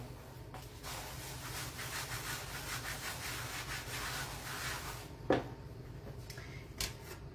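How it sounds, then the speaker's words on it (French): A kitchen work surface is wiped clean with quick, repeated rubbing strokes, soft and close, followed by a couple of brief knocks near the end. "Je vais venir donc nettoyer un petit peu mon plan de travail."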